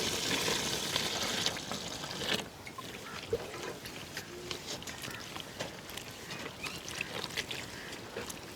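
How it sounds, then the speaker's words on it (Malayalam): Water is poured little by little into a thick cauliflower batter, a steady trickling and splashing that is louder at first and then drops to a softer, continuing dribble. "കുറേശ്ശെ വെള്ളം ഒഴിച്ച് നമുക്ക് ഇതൊന്ന് ഒരു കുഴമ്പ് പരുവത്തിലാക്കിയെടുക്കണം"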